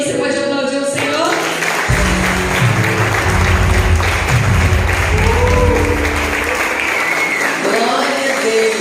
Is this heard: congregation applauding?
yes